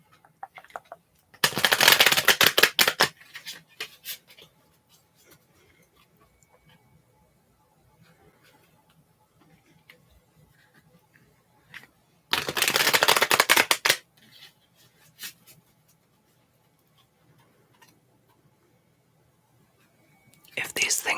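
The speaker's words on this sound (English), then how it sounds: "while I shuffle the cards" Tarot cards shuffled close up during a whispered ASMR reading, heard as two loud, crisp riffling bursts of a couple of seconds each, with a third starting at the end, separated by quiet stretches of soft whispering.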